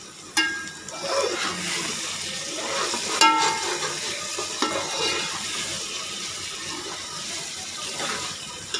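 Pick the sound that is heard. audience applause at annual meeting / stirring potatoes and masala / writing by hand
stirring potatoes and masala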